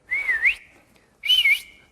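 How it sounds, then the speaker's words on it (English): A woman whistles with her mouth, two short clear whistles, each rising and falling, separated by a brief silence, close and distinct. "Okay, do your regular whistle first"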